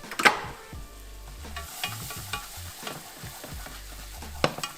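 Flour being stirred and cooked in a hot pan, a steady sizzle under repeated scraping strokes of a utensil against the pan, close and fairly loud with no talking.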